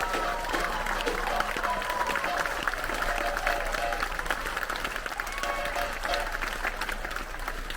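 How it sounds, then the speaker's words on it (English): Sustained applause from a large crowd aboard a cruise ship, steady dense clapping throughout with no pause, fairly close and loud. "give a massive round of applause one more time."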